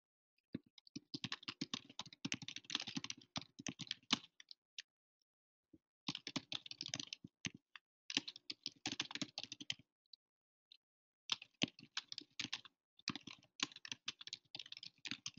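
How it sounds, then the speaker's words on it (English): Rapid keystrokes on a computer keyboard in bursts separated by short pauses, close and fairly quiet, with no talking. "So I'm just going to start typing Tucson."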